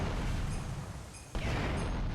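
A helicopter is shot down and explodes in a GTA video game, heard as a sudden loud blast that cuts in partway through over steady background game noise.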